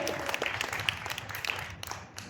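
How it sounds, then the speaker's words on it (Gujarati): Audience clapping at the Gyansindhu Pathshala school annual function in 2025, a faint, thin patter of scattered hands heard from a distance, loosening toward the end. "એમની માટે એક વખત ખૂબ જોરદાર તાળીઓ થઈ જાય"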